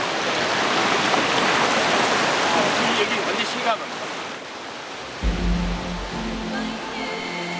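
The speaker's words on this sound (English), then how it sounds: "I walk closer to the waterfall with the desire to feel the strength of nature from up close." A waterfall in Mexico roars as a dense, constant rush of falling water, loud and close, before fading as a voice speaks over the remaining background.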